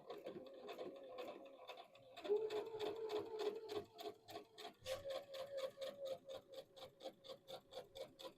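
A home sewing machine runs a straight stitch, starting slow and then speeding up into a steady rapid ticking rhythm, fairly quiet and close.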